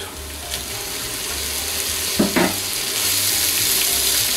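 A steady, loud hiss of pork, including pig tail pieces, frying in a hot pan, with a couple of brief scraping stirs near the middle.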